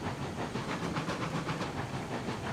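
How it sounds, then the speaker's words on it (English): Steam locomotive whistle in the train game Railroads Online, a steady hissing, breathy tone pulsing slightly in rhythm, sustained and moderately loud, with no talking. "I'm just playing with the whistle."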